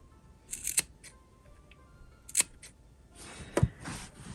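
Sharp snips of scissors cutting sewing fabric, three distinct crisp cuts spaced about a second apart, fairly close with quiet pauses between.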